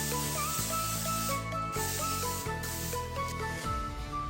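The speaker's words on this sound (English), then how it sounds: "we're just gonna spray it extra well with some cooking spray." Several short hissing bursts from a cooking spray can into a loaf pan come in quick succession, close up and fairly steady, with brief pauses between them.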